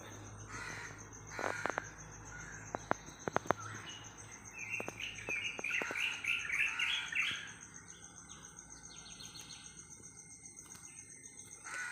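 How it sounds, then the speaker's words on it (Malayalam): Outdoor morning ambience with a bird calling repeatedly in sharp bursts, a quick run of chirps midway, and crickets buzzing steadily underneath. "ആ കിളിയാണ് കരയുന്നത് കേട്ടോ."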